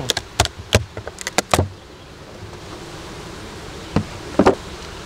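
A honeybee colony opened for inspection after a hive split hums with a low, steady buzz. Close sharp taps and knocks from frames and hive tools come in a cluster at the start and again near the end.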